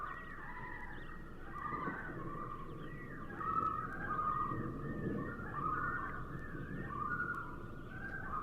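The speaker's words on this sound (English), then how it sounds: "we're hearing loons right now" A common loon calls outdoors with repeated wavering, laughing tremolo whistles. The wavering rises and falls in a series of bursts, moderately distant and clear over a quiet background, with no talking.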